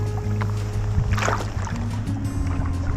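Wooden Norwegian Wood Greenland paddle dipping and pulling through water from a kayak, with steady splashy strokes and a low hum of wind and boat noise beneath.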